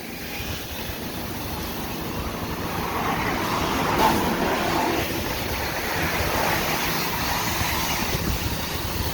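Broad outdoor rumble of wind buffeting steadily along a canal in Nottingham, swelling slightly midway, with a faint distant hum underneath and no voices.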